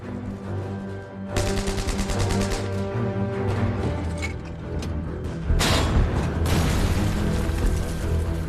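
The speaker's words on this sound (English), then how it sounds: "Heavy German shelling prevents Acting Major Gordon Brown and the rest of the Regina Rifles D Company from fully capturing the Abbaye d'Ardennes" Heavy German artillery shelling pounds the Abbaye d'Ardennes area in Normandy, with loud rumbling blasts, crackling bursts and a sustained roar that swells into a louder barrage toward the end.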